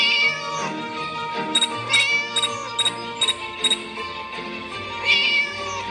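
Cat meowing inside a horror video game, a run of sharp, repeated meows in quick succession over a continuous game soundtrack, with a longer meow near the end.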